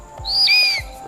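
An Indian black eagle gives a single thin, high whistled call that rises and slides, heard clearly above a quiet outdoor background.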